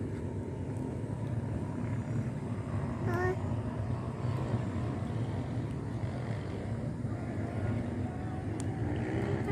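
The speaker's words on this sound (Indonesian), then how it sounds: "Suara motor trail." A trail motorbike engine drones steadily near a forest lakeside campsite, a constant mid-distance motor hum that holds at an even level throughout, with no spoken words.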